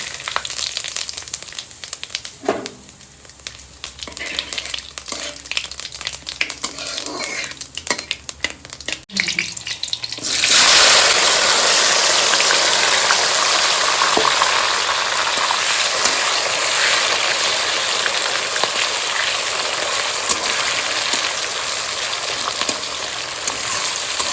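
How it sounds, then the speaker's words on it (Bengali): Cumin seeds and bay leaves go into hot oil for a mutton curry, setting off a sudden loud, dense sizzle that holds steady after quieter kitchen clatter and shuffling. "তেল ফুটে গেছে এবার জিরে আর তেজপাতাকে দিয়ে দেবো"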